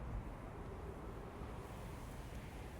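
Steady wind blows across a planet in the video game Outer Wilds, a constant, even rushing hiss with no breaks or gusts.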